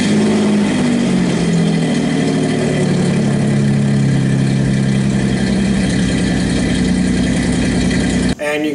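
A custom car's engine idles through a side exit exhaust with a steady, deep rumble and a loud throbbing exhaust note, running continuously before cutting off abruptly at the very end.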